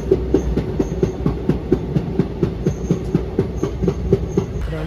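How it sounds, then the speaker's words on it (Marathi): Deccan Express passenger train rolling along near Bhandup, with steady rhythmic clickety-clack of wheels over rail joints and a continuous low rumble, loud and close throughout. "मित्रांनो आता आमची ट्रेन भांडुपला पोहोचल्या"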